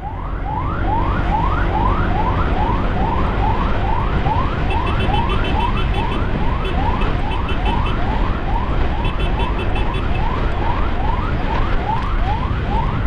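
A motorcycle horn honks repeatedly in a fast, steady rhythm while escorting an ambulance through traffic in Batusangkar, loud and close over constant engine and road roar, with a siren-like wail mixed in.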